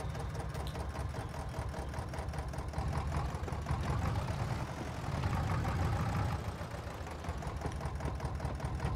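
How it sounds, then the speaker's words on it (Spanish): A steady, droning tractor engine in Farming Simulator 22 idles and hums continuously at moderate volume, with a mechanical, rhythmic chug and no voices. "Qué guapo el tractor este, ¿eh?"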